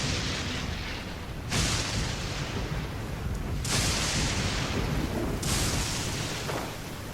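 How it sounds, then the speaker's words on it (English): Repeated heavy booms and rumbling explosions in the background of Genshin Impact gameplay, with a deep sustained rumble punctuated by three sharp bursts, loud and continuous. "So many explosions in the background."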